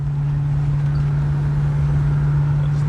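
An old classic car cruising along, its steady engine drone and low road rumble holding constant and fairly loud throughout, with no voices.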